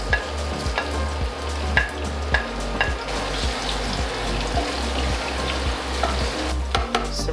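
Onions frying in a pan in a Phnom Penh kitchen give a constant sizzle, broken by regular scraping strokes as they are stirred.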